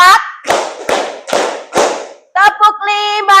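A classroom group claps in unison, five sharp, evenly spaced claps close by, followed by a voice speaking between the beats.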